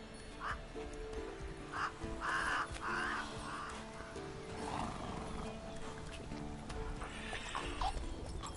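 Roach, a horse in The Witcher 3 on Skellige, clip-clops at a steady pace and gives several short whinnies over outdoor ambience with crow caws, fairly quiet overall and without speech.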